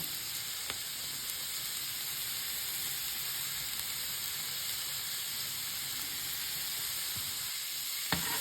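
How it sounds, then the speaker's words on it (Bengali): Garlic, onion and green chillies roast with a steady, even sizzle and hiss throughout, with a couple of faint clicks or taps along the way. "রসুন পোড়া, পেঁয়াজকেও পোড়াবো, আর কাঁচামরিচ সব কিছু পোড়াবো।"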